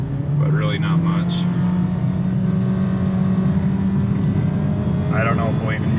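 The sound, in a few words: Honda HR-V accelerating from 0 to 60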